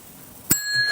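A small bell is struck once, a sharp bright ding that rings on with a clear sustained tone over a quiet, faintly noisy background.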